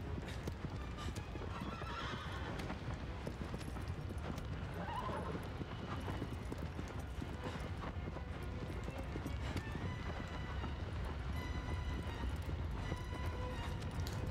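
Hooves clip-clop steadily as a horse runs in the PS4 Pro game Shadow of the Colossus, with a whinny rising over the rhythmic galloping, all fairly quiet and continuous.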